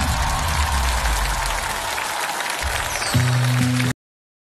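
A concert audience claps as a singer is welcomed onto the stage, a broad, even burst of applause that continues as band music begins in the last second before the sound cuts off abruptly.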